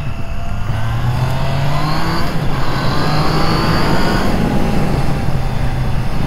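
A 2021 Triumph Trident 660 motorcycle engine pulling hard while riding on a country road, loud and close, its rising whine climbing through gears over steady wind rush, with no talking.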